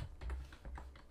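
Fast, uneven typing on a computer keyboard, a close run of soft clicks and taps with no voice.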